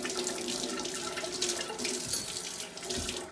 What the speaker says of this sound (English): I'm just rinsing my hands off